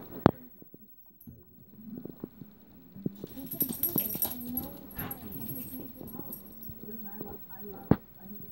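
Dogs whimper and give short yips, with scattered scuffling and a few sharp knocks, while people talk nearby. The sounds are close and uneven, rising busier in the middle.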